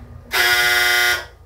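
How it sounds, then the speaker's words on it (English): A clothes dryer's buzzer goes off in a home, a single harsh, steady electronic tone lasting under a second, loud and close, with no voices over it. "That was my dryer."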